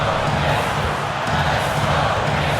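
Arena crowd noise in the basketball video game NBA 2K24 during an Indiana Pacers vs Milwaukee Bucks playoff game, a dense, steady roar of cheering filling the whole clip at close, even loudness.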